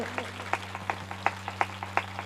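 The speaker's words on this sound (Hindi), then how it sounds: "एक बार फिर सारे ताली बजा के प्रभु की महिमा करिए" A church congregation at a Bible convention claps in a short, fairly regular rhythm, moderately distant, over a low steady hum.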